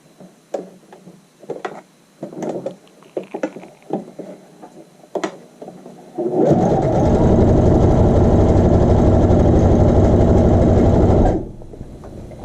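A sewing machine stitching a child's shorts hem runs in one continuous loud, rapid, buzzing burst for about five seconds, after scattered soft handling clicks and taps, then stops.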